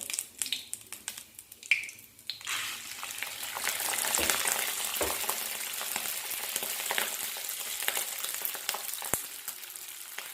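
Rice frying in white oil in a pan for chicken pishpash, a steady close sizzle that swells after a couple of seconds of quieter stirring, with a few sharp clicks and scrapes over the top.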